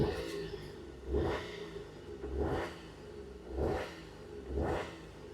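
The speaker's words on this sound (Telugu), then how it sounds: "సార్ రేస్ చేస్తున్నాను చూడండి." Petrol engine of a 2011 Maruti Zen Estilo revved repeatedly, four rising surges at roughly one-second intervals that fall back to idle between them, close and loud with no talk.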